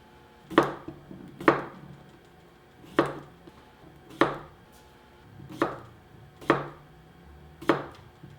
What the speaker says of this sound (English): A lot of times I'll just use a normal cucumber, and then just go ahead and cut this up.